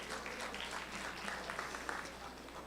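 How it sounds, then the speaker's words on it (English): Applause from an audience at a university research congress, a steady wash of clapping at moderate volume throughout. "Another round of applause."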